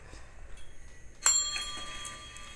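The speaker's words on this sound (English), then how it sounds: "Why'd that bell scare me?" A single bell strike from the A Quiet Place Part II trailer, one sharp ring with a long shimmering metallic sustain decaying over the following second against a quiet background.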